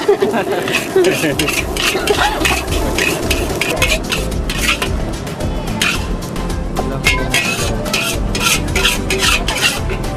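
Nasi goreng sagela with fish being stirred and fried at a night food stall in Gorontalo, Indonesia: loud, steady sizzling with rapid scraping and clanking of a spatula against the pan, continuing throughout.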